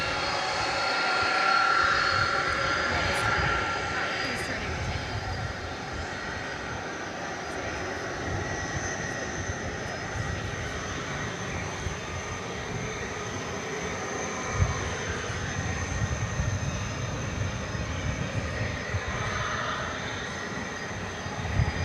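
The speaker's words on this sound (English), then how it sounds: "Once again, this is Flight 755 UPS going to RFD Airport" A UPS jet aircraft, flight 755 bound for RFD airport, roars at DFW Airport. It gives a sustained, fairly loud engine rumble and whine that holds steady throughout, with no voices.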